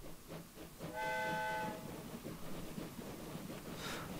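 A passenger train in the Train Fever video game departs, giving a brief whistle blast followed by a soft rolling rumble of wagons and faint rail clatter.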